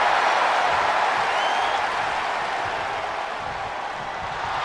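Arena crowd in the wrestling video game WWE 2K24 during a Royal Rumble match, a dense, steady roar of cheering and applause that fills the space and slowly eases off.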